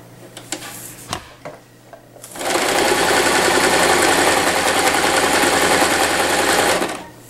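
A sewing machine runs a straight stitch along a roughly 1 cm folded fabric hem, starting with a few light clicks before a steady, loud mechanical whir that holds for about five seconds and then stops.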